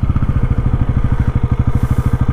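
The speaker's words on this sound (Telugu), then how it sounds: "Let's start the bike." A Bajaj Pulsar NS400Z motorcycle engine idles up close, a loud, steady, fast rhythmic thumping that holds an even pace throughout with no talking.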